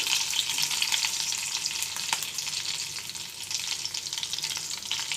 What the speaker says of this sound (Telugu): శనగలు అన్నీ వేగినాయిగా ఇప్పుడు ఫస్ట్ కరివేపాకు వేద్దాం కరివేపాకు తర్వాత పచ్చిమిర్చి వేయాలి